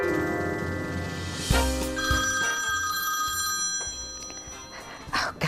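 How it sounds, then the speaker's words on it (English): A cell phone ringtone going off indoors during a home cooking show, repeated electronic rings with a dog briefly barking and whimpering nearby. "I forgot to turn my cell phone off."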